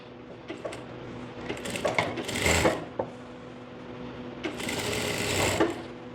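Sewing machine running in bursts while stitching a seam on a ladies' pant, its rapid mechanical whirr surging twice with short pauses and light handling clicks between runs.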